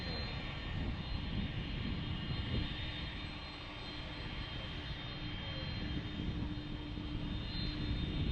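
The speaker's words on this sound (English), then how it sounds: "I wanted to have him check out the MD-11 right here." A McDonnell Douglas MD-11 airliner at Dallas/Fort Worth International Airport, its jet engines giving a steady, loud, broadband roar that holds for the whole stretch without a break.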